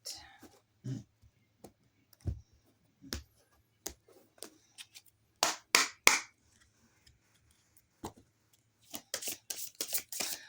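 Tarot cards shuffle in scattered bursts of riffling and slapping, with quiet gaps between, building into a quicker flurry of snaps near the end.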